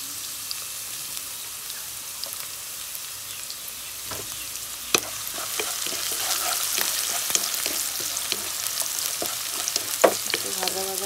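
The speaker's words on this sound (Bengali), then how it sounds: "একটু ভাজা ভাজা করে নেব" Sliced onion and green chilies frying in hot oil in a pan, a constant crackling sizzle with scattered pops and occasional stirring clinks, heard up close without speech.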